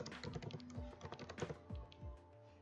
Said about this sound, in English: go down to the search bar and type in video editor